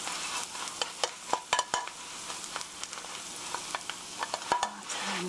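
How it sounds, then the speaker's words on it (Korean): Hash browns fry in an uncovered pan after ten minutes of cooking, giving a steady crackling sizzle broken by sharp clinks and scrapes as the pan is shaken and stirred. "10분이 지났습니다. 한번 흔들어 보시고요."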